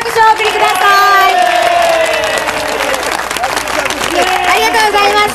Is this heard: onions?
no